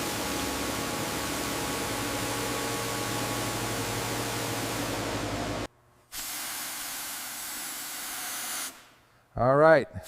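Water hisses steadily from a sprayer onto an old, grimy, unrestored 1936 Bugatti Type 57 Atlantic during cleaning, then cuts out, followed by softer hiss and a brief voice at the end.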